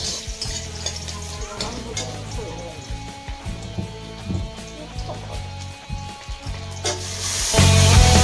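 Dal sizzles loudly as it fries in a pan in a home kitchen, with steady crackling broken by scraping stirs, swelling louder near the end.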